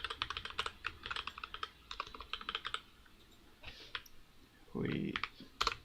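Keys clatter on a computer keyboard in quick, uneven bursts while setting up a variable in Unreal Engine 4, with a pause and a couple of mouse-like clicks near the end.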